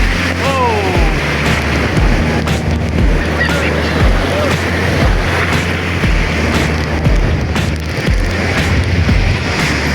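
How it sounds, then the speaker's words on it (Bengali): Big ocean waves break and wash continuously along a beach at Cox's Bazar, a loud steady roar with wind buffeting the microphone and people talking nearby. "ঢেউ বড়, এটা ঢেউ বড়, ঢেউ বড়।"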